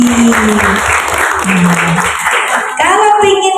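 An audience of mothers at a parenting seminar breaks into steady clapping, a dense wash of applause lasting several seconds while a voice carries on over it.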